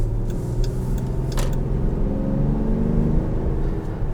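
A 2021 Dodge Durango GT fitted with a K&N cold air intake cruises at partial throttle, its engine and intake giving a steady, close, droning whir with a low rumble throughout.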